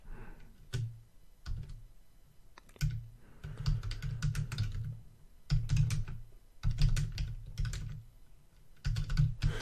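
Clattering computer keyboard keys sound in quick, uneven runs of close typing with short pauses while a Java doc comment is written in code.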